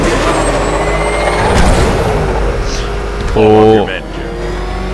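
The Batmobile in Batman: Arkham Knight rumbles steadily with engine and road noise, then gives a brief harsh horn-like blast near the end, while a player speaks briefly over the gameplay.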